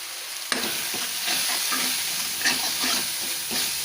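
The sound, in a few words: chilli and coriander powder frying with paneer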